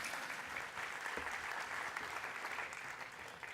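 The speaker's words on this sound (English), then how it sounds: "Round of applause, please, as they come." Keynote audience at a conference applauds as four speakers walk on stage, a dense, continuous roar of clapping from a large crowd, steady and moderately loud for the whole stretch.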